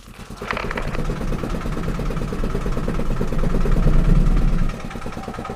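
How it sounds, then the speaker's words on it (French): An engine in a homemade theme-park boat ride, overheating with something stuck inside, runs with a steady rhythmic chugging vibration that grows louder and then drops back, close by. "Le moteur surchauffe, il doit y avoir quelque chose qui est resté coincé dedans."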